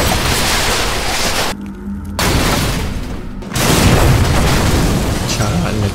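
Loud, dense explosions rumble and crackle in a first-person shooter video game, with continuous blasts broken by two brief pauses, and a voice talking over the noise.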